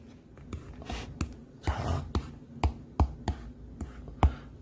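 A pen writes on paper in quick bursts while a graph is drawn for a math problem, giving dry scratchy strokes and sharp taps, close and fairly loud, with no talking.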